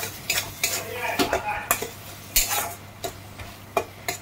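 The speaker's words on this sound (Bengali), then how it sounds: "দিয়ে এবার ভালো করে মশলাটা নেড়ে চেড়ে একটু কষিয়ে নেব" Spices sautéing for bhog khichuri with gobindobhog rice, stirred with a metal spoon: repeated bright scrapes and clinks against the pot over a steady sizzle, close and fairly loud.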